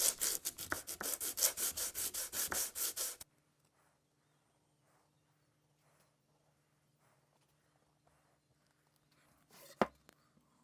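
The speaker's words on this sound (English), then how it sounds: "One thing I found useful is actually using one of the handles to wrap the sandpaper in" Sandpaper wrapped around a tap handle scrubs a metal tap during a tap-and-die restoration, about a dozen loud, rhythmic back-and-forth strokes that stop abruptly, leaving near silence with one sharp knock near the end.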